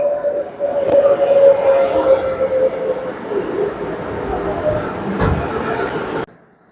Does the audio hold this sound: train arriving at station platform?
yes